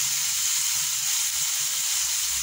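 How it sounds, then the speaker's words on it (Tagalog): Tomatoes sauté in a hot pan with a continuous, even sizzle, close and steady throughout. "Yan ang sekreto na nagigisa ng kamatis."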